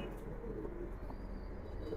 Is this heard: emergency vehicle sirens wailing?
no